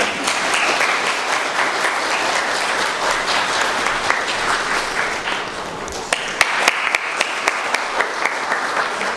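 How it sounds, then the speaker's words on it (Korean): Wedding guests at a convention-centre ceremony break into sustained applause, a dense steady wash of many hands clapping that carries on for several seconds with a few sharper individual claps near the end. "큰 박수 부탁드리겠습니다"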